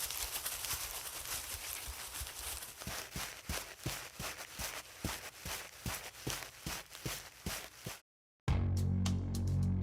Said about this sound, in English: In this case, I only had to edit half of the footsteps.